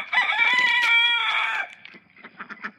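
A rooster crows loudly and close by in one long call, then chickens cluck in short, scattered bursts while the call fades.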